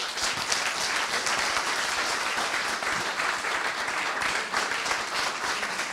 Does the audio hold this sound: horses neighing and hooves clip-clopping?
no